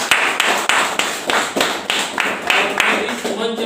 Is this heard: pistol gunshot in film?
no